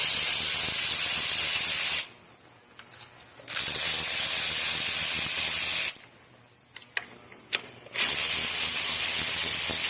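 Bolts being loosened and removed from the valve cover of a Briggs & Stratton twin-cylinder engine: a steady hissing, rasping mechanical whir from a power tool, run in bursts and broken by two short quiet gaps.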